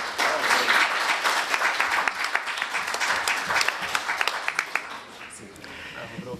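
Sustained applause from an audience at a Dynamo Kyiv press event welcoming a new Serbian player, dense steady clapping throughout with a speaking voice over it.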